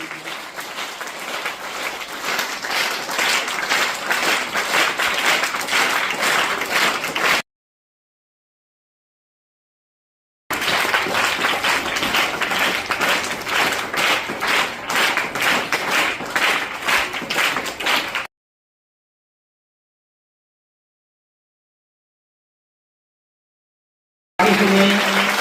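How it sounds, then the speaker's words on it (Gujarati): Audience applause greeting guests at a school science fair welcome, steady dense clapping in two long bursts separated by silence, with another burst starting at the end. "આ સ્વાગતને આપણે સૌ જોરદાર તાળીઓથી વધાવીશું."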